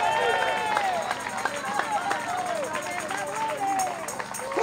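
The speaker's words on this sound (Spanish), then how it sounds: "¿Cuántas las palmas de alabanza al Señor?" Street evangelism crowd in the Plaza de Armas, Santiago, Chile, clapping in praise amid shouting voices and busy babble, with sharp hand claps scattered through a dense, continuous layer of talk and crowd noise.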